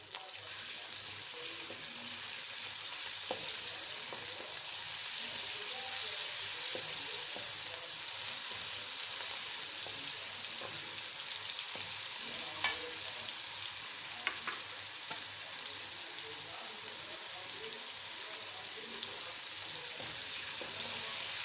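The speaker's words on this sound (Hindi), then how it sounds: "चिकन को थोड़ा सा पका लेते हैं ताकि इसका जो कच्चा जायका है वो ख़त्म हो जाए।" Finely cut chicken fries in ghee with vegetables in a pan, giving a steady, soft, even sizzle with occasional faint clicks of stirring, heard alone and fairly quiet throughout.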